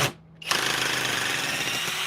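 A hydraulic power tool starts after a brief pause and runs steadily, a loud continuous whirring buzz while fasteners are installed and removed, with no one talking.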